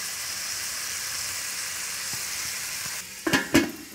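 Snow peas and onions hit a hot wok and start stir-frying, breaking into a loud sizzle with a couple of sharp bursts after a steady background of cooking noise.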